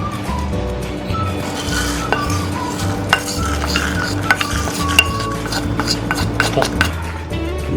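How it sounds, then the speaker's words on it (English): Shredded coconut and cashew nuts dry roast in a pan, with a steady stirring scrape, soft sizzle and sharp metallic clinks of the utensil against the pan at irregular moments, all close by. "Now I am going to dry roast the shredded coconuts and also the cashew nuts."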